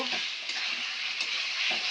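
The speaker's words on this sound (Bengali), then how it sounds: "এই কষিয়ে নাড়াচাড়া করে দিলাম। দিয়ে ভাজা আলুটা দিয়ে দিচ্ছি, দিয়ে কষিয়ে নেব।" Chicken kosha with fried potatoes stirred and sizzling in a pan, a steady bright hiss with soft scraping strokes of the spoon throughout, close and continuous with no talk.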